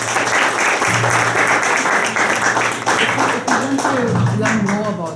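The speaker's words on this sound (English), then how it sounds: "it's really a big round of applause." Steady applause from a live audience at a talk on the Thanjavur Big Temple, loud and continuous for the whole stretch, with a voice speaking over the clapping near the end.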